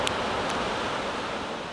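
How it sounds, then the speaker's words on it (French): Powerful ocean waves breaking at a Hawaiian beach, a steady, dense roar of surf with broad hiss throughout and no voices. "En voyant des vagues aussi puissantes, personne de censé n'irait nager là-dedans."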